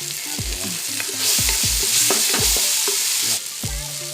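Turmeric, pepper and coriander powders sauté in a pan for a chicken masala, a steady hiss that swells loud in the middle, with repeated clattering knocks of a spoon against the pan.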